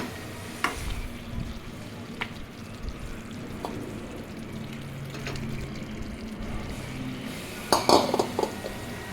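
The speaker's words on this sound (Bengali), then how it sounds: "আমি ধিমে আঁচে ভালোভাবে মাংসটা কষিয়ে নেব।" Chicken with fried potatoes sautés over a low flame in a pan, a soft continuous sizzle broken by occasional scraping stirs and a louder clatter of utensil against pan near the end.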